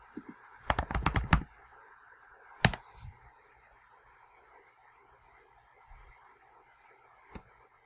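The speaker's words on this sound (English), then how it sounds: "I type in waiting" Fingers type on a computer keyboard, a quick close burst of clicky keystrokes followed by a couple of single isolated key taps in a quiet room.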